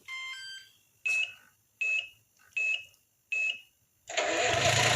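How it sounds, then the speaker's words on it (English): Tamiya MFC-1 sound unit in a 1:14 scale Globe Liner RC truck gives a short series of electronic beeps, then the simulated engine starts up into a steady rumbling idle, all close and fairly quiet. "Now turn on your truck."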